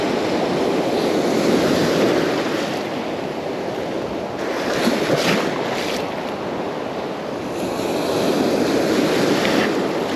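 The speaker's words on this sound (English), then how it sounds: "The waves were larger than what they looked like from the shore." Ocean surf breaking on a beach at low tide, a steady loud roar of waves with gusts of wind buffeting the microphone throughout, swelling and easing in broad surges.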